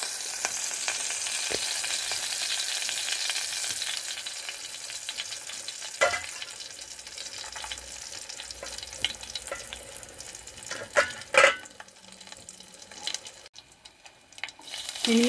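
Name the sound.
turmeric, dried red chillies and garlic frying in oil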